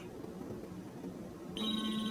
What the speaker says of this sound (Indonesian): mendadak terdengar panggilan telepon entah dari siapa